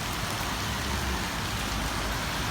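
Steady, dense rain falls on a rainy morning, an unbroken even hiss with no voices.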